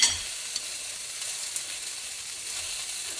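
Snapper fillet fries steadily in a pan, a continuous soft sizzle with a light crackle and a couple of small taps, no voices.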